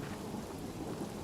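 Thunder in Hytale, a faint, continuous low rumble under soft rain-like hiss, without any voices.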